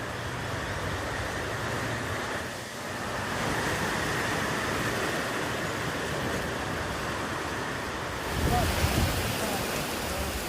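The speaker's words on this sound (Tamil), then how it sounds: "ஆஸ்திரேலியாவின் சிட்னி நகரில் கொட்டி தீர்த்த கனமழை." Heavy rain pours down on flooded Sydney city streets, a dense, steady roar of rainfall that stays loud and unbroken throughout, with a brief surge of heavier splashing near the end.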